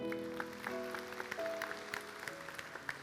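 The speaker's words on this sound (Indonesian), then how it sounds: "Kasih tepuk tangan untuk Tuhan." A congregation claps during a church sermon. The claps are sparse and fairly faint, with soft organ-like sustained tones playing underneath.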